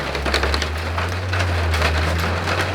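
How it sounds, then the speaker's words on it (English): Hail falling outdoors, a dense, steady patter of hard pellets striking surfaces, continuous and fairly loud throughout, with a low rumbling hum underneath and no talking. "It's actually hailing."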